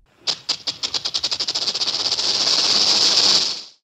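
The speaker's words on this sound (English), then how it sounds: "snake" A snake gives a series of quick rattling pulses that speed up and merge into one long, loud, steady hiss before stopping abruptly.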